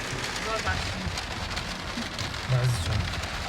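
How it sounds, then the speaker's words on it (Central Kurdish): Steady rain falls outdoors in Kristiansand, a dense hiss of drops pattering on surfaces throughout, with a voice briefly murmuring underneath near the end. "بەڵام یەک بارانە بارانی ئەمان بارە"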